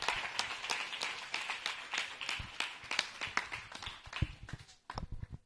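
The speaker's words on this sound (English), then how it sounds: "Put your hands together and bless the Lord." A church congregation claps along during a gospel service, steady rhythmic hand claps filling the room with a few louder accents, briefly thinning near the end.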